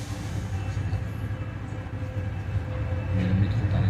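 A Paris Métro line 10 MF67 train running, with a steady low rumble of wheels and motors from inside the car that grows slightly louder near the end.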